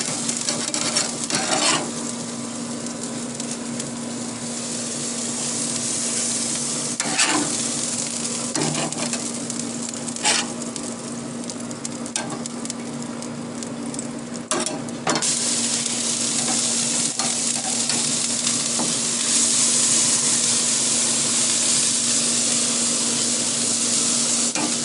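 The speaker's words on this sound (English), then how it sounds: "I put the grease down on the coals" Grease drips onto hot barbecue coals and sizzles in a continuous crackling hiss, broken by scattered sharp pops and spits over about twenty-five seconds, with no talking.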